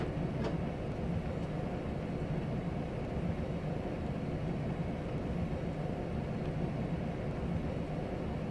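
Train coupling in Train Sim World 2021 on the Rhine route at night, a low steady rumble of the locomotive and rail cars, with a brief clank near the start.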